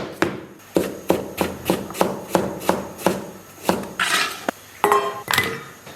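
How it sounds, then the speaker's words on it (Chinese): A knife slices ginger into thin pieces on a cutting board, producing a steady series of crisp, close chopping knocks about twice a second, with a few scraping clatters near the end. "然后把姜给它切成薄薄的厚片"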